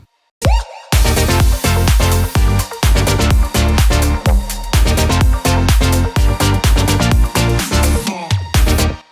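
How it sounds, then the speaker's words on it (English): Bright True Pianos plugin piano chords ring through a loud electronic dance drop, layered over thumping kicks and deep bass in a driving, steady groove, with no voices. "It just gives the drop so much more depth with that piano added in there."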